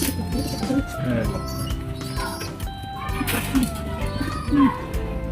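Soft, low pigeon coos repeat every second or so among a busy mix of other bird calls and background murmur.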